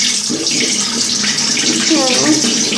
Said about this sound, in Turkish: şimdi de bunu ve ellerimi yıkayacağız